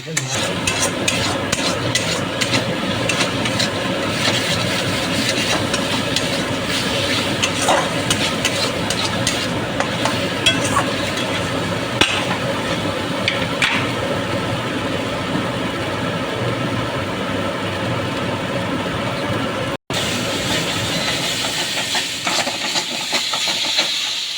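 Masala for palak paneer fries and is stirred in a pan, a constant close sizzle and hiss with scraping stirring strokes running steadily throughout with no talk.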